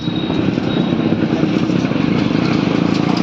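A motorcycle engine runs loud and close on a road near Jalna, with a steady, throbbing drone that holds without fading for the whole stretch.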